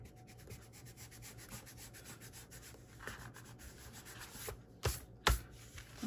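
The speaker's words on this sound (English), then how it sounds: "I'm just gonna use my eraser and try to get rid of a little bit of the lines here" An eraser rubbing pencil lines off paper pages for a mini album: a quiet, continuous scratchy rubbing close by, with a couple of louder brushing strokes near the end.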